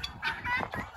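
Turkeys gobble and cluck in short bursts close by while drinking water, with the rustle and shuffle of birds milling around on a snowbound farm in freezing cold.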